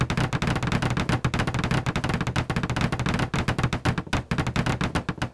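Rapid, hard chopping with a knife and an axe in the survival video game SCUM, a dense run of sharp, loud impacts that keeps going almost without pause.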